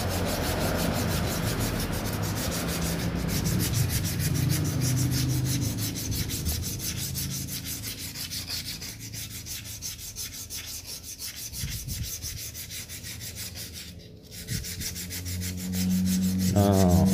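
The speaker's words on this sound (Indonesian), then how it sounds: "gosoklah pakai amplas nggak apa-apa" Sandpaper rubbed by hand on a metal part of a Yamaha RX King motorcycle after polishing paste is applied, giving continuous rhythmic scratchy strokes, close and moderately loud, alone without talk.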